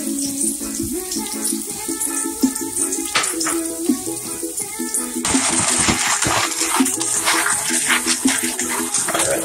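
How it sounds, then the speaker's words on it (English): Tap water runs steadily while red beans are washed, with rattling, clinking knocks of beans and hands in a bowl, and the splashing grows fuller and louder midway. "washing the red peas. Don't call it red peas, red beans."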